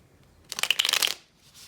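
A quick riffle of tarot cards being shuffled, a single crisp burst of papery flutters lasting about half a second, close and fairly soft in a quiet room.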